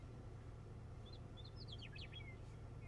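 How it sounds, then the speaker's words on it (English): Small birds chirp in quick, high bursts over a steady low rumble of background noise in the Badlands, faint and somewhat distant. "I love just hearing the birds chirping"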